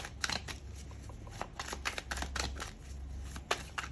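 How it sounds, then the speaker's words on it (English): A deck of tarot cards is shuffled by hand, a quick run of crisp riffling flicks and soft slaps, close and fairly quiet with no speech. "So let's give it a final shuffle."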